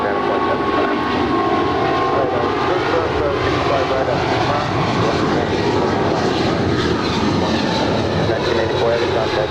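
American Airlines Flight 171 jet at LAX, its engines a loud, steady broadband roar that holds throughout, with a voice talking over it.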